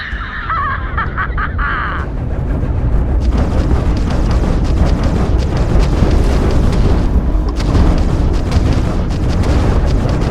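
Spaceship weapons blasting and explosions rumble in a Starfield space battle, a dense, loud barrage of booms and bursts running continuously, with a brief high whine at the start.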